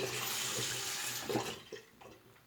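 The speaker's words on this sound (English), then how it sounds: "Rinse the hands." Running tap water splashing into a sink while hands are rinsed under it, a steady close wash with a few brief splashy bursts partway through.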